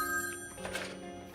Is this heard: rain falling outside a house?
no